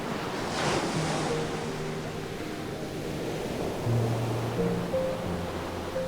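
Ocean waves wash steadily onto a beach, a continuous broadband surf hiss that rises and falls gently, with faint sustained tonal notes drifting over it and no voices.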